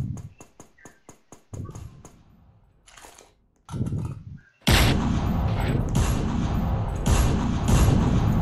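Sniper rifle shots in a Roblox gunfight: a run of sharp rapid cracks, then separate louder bursts, ending in a dense sustained barrage of gunfire.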